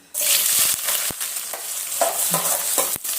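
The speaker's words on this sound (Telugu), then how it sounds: "ఇప్పుడు నూనెలో వేసేద్దాం." Sliced onions hit hot oil with a sudden loud sizzle that keeps crackling, with a few scraping stirs of a spoon in the pan, close by.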